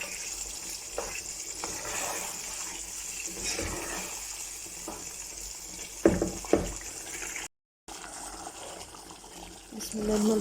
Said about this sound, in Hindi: अब मैं इसके अंदर थोड़ा सा पानी ऐड कर दूँगी